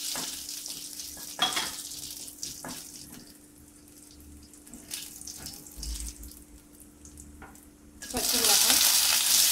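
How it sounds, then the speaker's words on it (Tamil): One spoon of hot oil is used to temper curry leaves, onion and green chilli for a curry leaf soup, giving a close crackle and sizzle with stirring clatter, then a loud, sustained hiss as more goes in. "இப்போ வந்து தாளிக்கிறதுக்கு எல்லாத்தையும் போடுறோம்."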